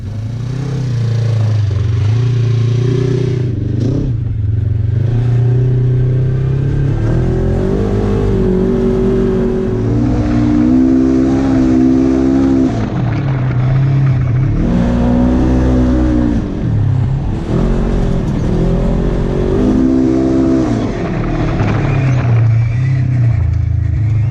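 A rally car's engine roars and revs continuously while driving in sand dunes at the Dubai International Baja Rally, rising and falling in pitch as it accelerates and eases off, loud and close throughout.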